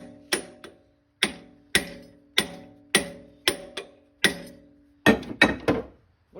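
A hammer pounds on a part of a Cummins diesel engine, giving about a dozen sharp metallic strikes with short ringing tails at an uneven pace, ending in a quicker flurry of blows.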